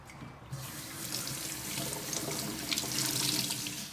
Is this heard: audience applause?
no